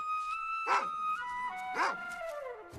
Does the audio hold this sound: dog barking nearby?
yes